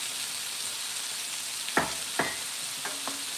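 A pot of herb broth bubbles and sizzles softly in a steady, faint hiss, with a few louder clinks or stirring knocks near the end.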